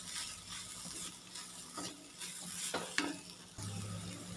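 Banana filling for Malayali unnakkaya being stirred in a pan, with a close, steady sizzle of frying under soft scraping strokes of a spoon that grow sharper at intervals, and no voices.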